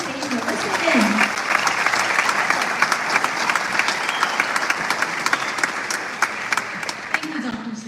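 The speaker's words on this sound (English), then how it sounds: "Let's give her a huge round of applause and welcome to the stage Melissa Vin" Audience at a live scholarship award event in a hall breaking into loud sustained applause, dense clapping throughout with cheers rising at the start and a voice speaking near the end.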